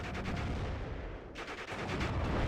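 Tank cannon fire and battle noise in the WWII strategy game Steel Division: Normandy 44, with an M4A1 Sherman facing a Panzer IV-J. A dense, continuous rumble of shots and explosions runs throughout, loud and without pause.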